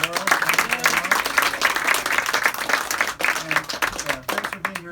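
Applause from an audience at the Magic Castle after a close-up card magic act, with dense, continuous clapping throughout and a performer's voice speaking over it.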